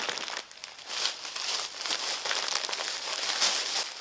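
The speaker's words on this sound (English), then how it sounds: "Because I only have 2 shirts for this order, I would just put it in a plastic bag like this." Two shirts being packed into a plastic bag, with steady, close crinkling and rustling of thin plastic throughout and brief louder crunches.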